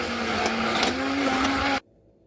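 An electric mixer blending almonds with water whirs steadily at close range, its motor pitch wavering slightly before cutting off abruptly into near silence.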